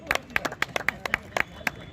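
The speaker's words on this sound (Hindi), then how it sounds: "वो ताली बजा रहे हैं" Sharp, irregular hand claps from an audience at an outdoor Hindi poetry recital (kavi sammelan) in a park, about a dozen quick slaps spread unevenly over two seconds, fairly close and not very loud.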